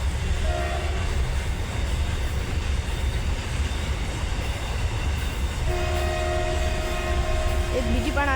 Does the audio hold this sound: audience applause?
no